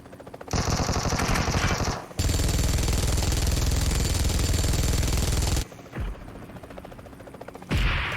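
Heavy machine gun fire in PUBG Mobile's heavy weapons mode comes in long, loud, rapid bursts, with a short gap and a quieter pause before a final burst.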